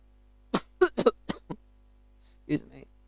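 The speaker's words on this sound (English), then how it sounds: "I got hiccups again." A person gives a quick run of short, abrupt hiccup-like bursts, close and moderately loud, followed by a brief murmur of speech.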